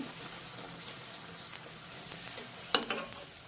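Bhature frying in hot oil give a faint, steady sizzle, with a few soft clinks and a brief burst of crackling near the end.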